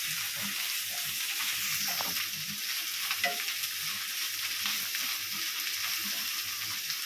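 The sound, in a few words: stirring masala with turmeric and chili powder in pan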